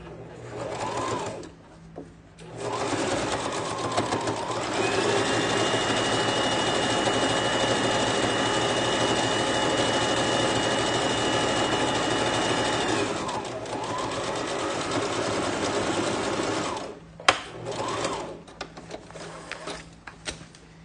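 Domestic sewing machine running a topstitch over a 1 cm folded fabric edge for a tie-decorated pencil case, a steady mechanical whir of about twelve seconds between shorter bursts, close up with brief pauses.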